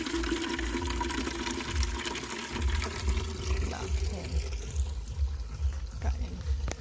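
Tap water running steadily while a container fills, a broad continuous wash of flowing water close by, with faint background sounds throughout.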